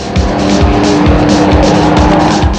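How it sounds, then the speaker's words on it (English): Class C dragster at a South African drag strip, a loud roaring engine with tire squeal, heard close and continuous and rising in pitch through short bursts. "lined up against newcomer Jan Johnson in her Powerade Class C dragster to fight for a place in the quarterfinals."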